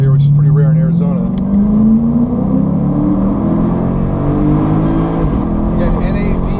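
A Lexus IS-F with a naturally aspirated 5-liter V8 revving inside a short tunnel, a loud close engine note that climbs in pitch, then drops and hums on with a rumbling echo, with talking faintly underneath.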